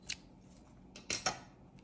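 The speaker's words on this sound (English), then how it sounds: "And we're going to cut the yarn." Scissors snip through crochet yarn, one short cut followed by two quick close snips in a quiet room, with no voices.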